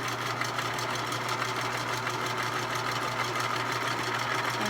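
Sewing machine running steadily as it stitches a seam on a pleated fabric face mask, a continuous close-up whirring hum throughout without pause.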